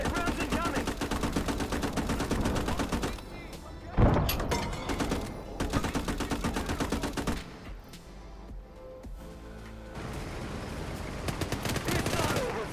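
Gates of Hell war video game combat: rapid bursts of machine-gun fire and sharp gunshots with a heavy impact thud, loud and dense throughout, mixed with a player's voice.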